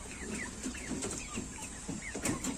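Several chickens cluck and murmur nearby in a busy, overlapping chatter, with a rooster among them, fairly quiet in the background.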